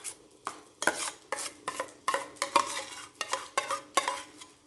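Blended plantain is mixed into puff puff batter in a bowl, a run of wet, rhythmic stirring strokes with spoon clinks against the bowl, close and fairly quiet, roughly two or three strokes a second.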